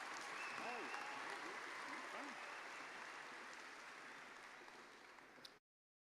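Sustained applause from a large crowd at an MBA graduation ceremony, steady and full, with a few voices faintly audible beneath it before it cuts off abruptly.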